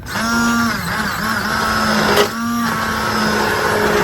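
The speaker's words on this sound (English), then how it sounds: "Now I just have my stick blender and I'm going to blend everything together" A stick blender whirs steadily through a pot of ingredients being prepared for canning, loud and continuous, its motor pitch dipping briefly as it bites into the mix, with no voices.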